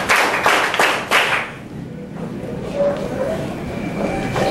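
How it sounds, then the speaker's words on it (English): A group of people clapping together several times in a row, sharp loud bursts close by that settle into lighter scattered claps and room noise. "Let's give them 5 power claps."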